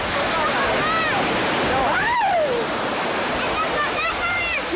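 Sea waves on the Dwarka coast roll as a dense, loud, continuous wash of surf, with high whistling or shouting voices faintly heard over it.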